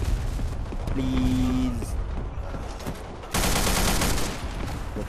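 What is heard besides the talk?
gunfire in the video game Black Squad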